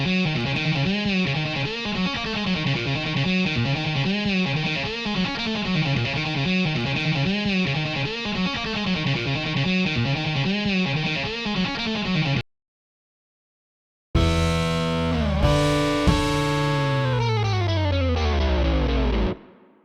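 Fast-picked electric guitar samples sequenced in OpenMPT and run through an amp simulator, a dense driven run of repeating notes that stops briefly, then returns as sliding sustained distorted tones, loud with no talking.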